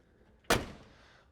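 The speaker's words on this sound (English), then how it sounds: "Driver's side door opens, closes with ease." A single sharp driver's door thud on a 1967 Ford Mustang GT K-Code, close and fairly loud, followed by a brief fading rumble.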